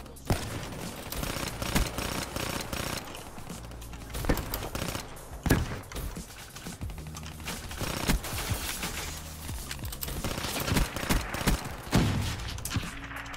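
SMG fire in Black Ops 3 comes as repeated short, rapid bursts of gunshots with thuds in between. Shots crack loudly across the whole stretch, with many irregular volleys and no voices.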